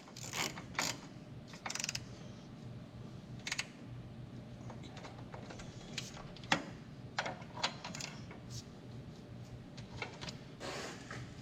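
A ratchet clicks in short bursts as the brake caliper bolts are tightened on the front of a 1998–2002 Ford Crown Victoria. Metallic clinks and tool handling fill the gaps, all close by and fairly quiet.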